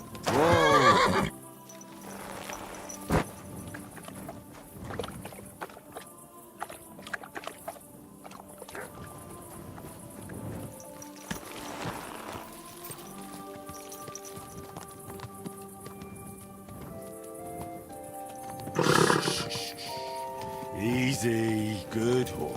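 A horse in Kingdom Come: Deliverance II whinnies loudly at the start and again near the end, with scattered hoof clip-clops and game ambience in between.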